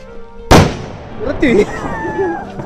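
A sutli firecracker bomb soaked in petrol explodes outdoors with one sharp, loud bang, followed by a ringing decay, while people talk and laugh nearby.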